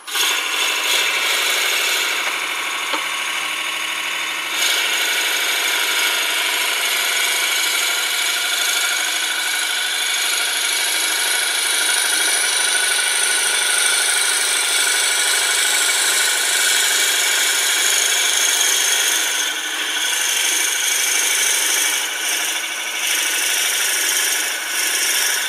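Fine-grit sandpaper rubs steadily against a turned wooden hollow Christmas ornament, a continuous bright, hissing abrasion heard close up, with no talking.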